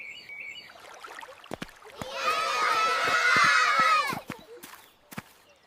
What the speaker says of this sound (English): Some children are playing.